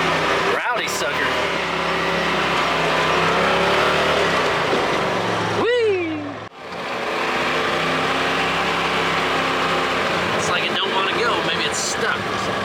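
A Polaris Turbo RZR off-road vehicle is driven hard through muddy puddles. Its engine roars loud and close in a sustained drone, dips sharply once mid-way, then climbs back to full throttle, with voices under the noise.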